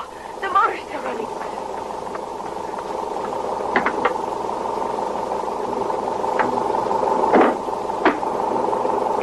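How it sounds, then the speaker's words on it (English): A diesel truck engine idles steadily throughout, a continuous low hum with a few brief knocks and clatters on top, close and fairly loud, with voices present. "Oh, the motor's still running."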